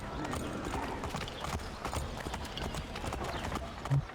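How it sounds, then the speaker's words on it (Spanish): Horse hooves clip-clop steadily while riding in Assassin's Creed 3, a continuous rhythmic trot running the whole stretch with faint background game sound and some voice-like murmur. "Sigue a Lee a caballo hasta el Green Dragon"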